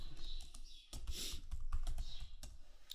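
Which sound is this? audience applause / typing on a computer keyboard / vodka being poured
typing on a computer keyboard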